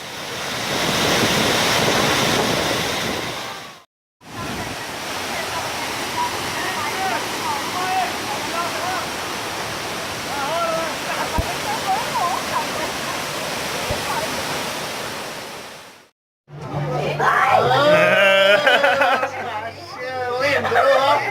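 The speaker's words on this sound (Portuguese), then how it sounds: "É cachoeira." Waterfall at Cachoeira dos Pretos in Joanópolis, a loud, steady roaring rush of falling water that fills the scene, with a brief gap partway through and people talking and shouting near the end.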